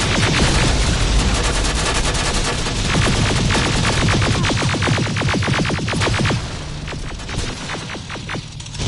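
Sustained automatic gunfire from a Terminator Resistance battle, with dense rapid bursts of shots stacking over a loud, constant combat din that thins near the end.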